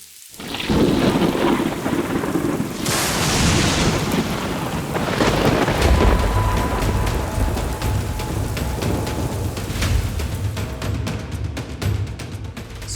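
Heavy rain pours onto a river in North Kalimantan during a fishing trip, a loud, steady broadband roar with deep thunder rumbling through it and no voices.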